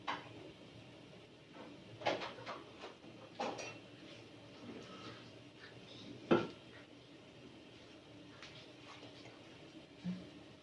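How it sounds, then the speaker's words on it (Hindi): A spoon slowly stirs halwa in a pan, giving faint, scattered scrapes and soft clinks against the metal at irregular intervals. The kitchen is otherwise quiet, and no one speaks. "इस तरीके से हमने इसको आहिस्ता आहिस्ता मिक्स करते रहना है और हम इसको जलने नहीं देंगे"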